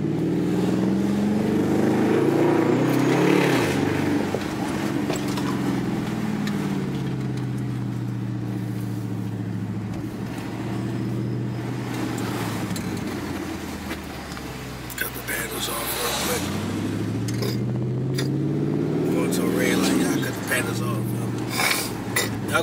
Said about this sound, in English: I know y'all hear them crackles.